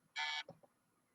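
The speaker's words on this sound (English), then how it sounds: "I got a phone call coming" An incoming phone call notification gives a single short electronic beep, bright and close, sounding alone and followed by a few faint soft knocks.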